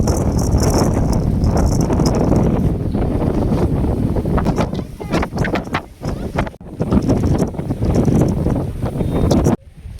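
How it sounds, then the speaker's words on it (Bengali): Strong wind in Meghalaya buffets the microphone in loud, continuous roaring gusts, dipping briefly in places before surging back. "প্রচুর পরিমাণে হাওয়া দিচ্ছে"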